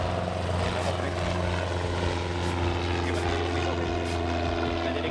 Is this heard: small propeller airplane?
yes